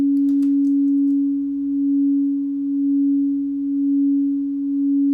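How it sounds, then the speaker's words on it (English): A steady synthesized tone made with amplitude modulation in Max MSP, its loudness swelling and dipping in a slow, even pulse about once per second, alone and sustained with a brief click at the start. "that's amplitude modulation there"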